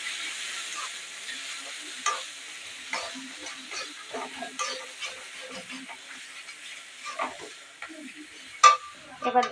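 Fish masala with cumin powder and Kashmiri red chilli powder, made for a stingray dish, fries and is stirred in a pan, giving a soft, steady sizzle with scraping and clattering stirs that grow louder near the end.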